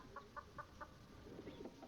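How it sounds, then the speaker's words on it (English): Ambient chicken clucking from the Disciples: Liberation video game, four quick soft clucks in an even rhythm followed by a few more scattered ones, faint and in the background over a low hiss. "chickens clucking in the background should count as ambiance"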